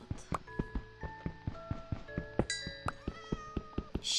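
Cat meows from the video game Minecraft sound several times amid a rhythmic series of sharp in-game clicks and taps, moderately faint, with no talking.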